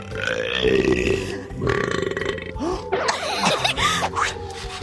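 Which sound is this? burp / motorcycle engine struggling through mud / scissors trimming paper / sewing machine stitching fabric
burp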